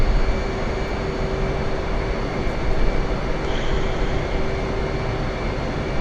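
A steady, loud jet engine roar with a high whine fills the scene as an aircraft launches from a carrier in a video game, continuous and unbroken throughout.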